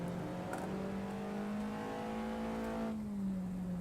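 Race car engine in Assetto Corsa climbing steadily in pitch under acceleration as power goes back on, a smooth sustained whine with rich harmonics, then dropping off slightly near the end; no talking.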